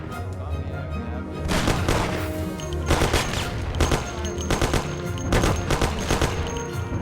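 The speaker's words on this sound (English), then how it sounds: "What are they shooting at?" Machine gun fire in the Mafia video game crackles in several rapid bursts, loud and close, separated by short gaps, with an underlying game soundscape.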